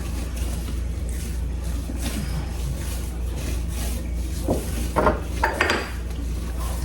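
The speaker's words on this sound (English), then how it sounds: "We're gonna knead this for 5 minutes" Chocolate sourdough bread dough being kneaded by hand on a mat, giving soft steady rubbing and slapping with a few sharper thumps near the end, close and continuous with no talking.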